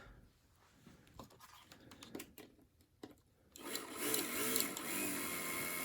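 A freshly oiled AFX F1 slot car motor is tested. A few soft ticks and handling noises come first, then the motor starts with a faint, steady high whir that carries on to the end.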